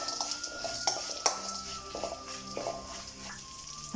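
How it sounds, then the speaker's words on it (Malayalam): A utensil stirring and mixing salted chickpeas in a pan while making avil uppuma, with soft scraping and repeated sharp metallic clinks against the pan, close and fairly quiet. "ഇനി നമുക്കിത് നന്നായിട്ടൊന്ന് മിക്സ് ചെയ്യാം."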